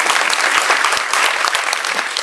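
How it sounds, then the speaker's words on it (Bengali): A short burst of loud, close audience clapping at a stage play event, dense and energetic hand claps filling the whole moment without any voices. "বাপিদার জন্য একটা হাততালি হয়ে যায়।"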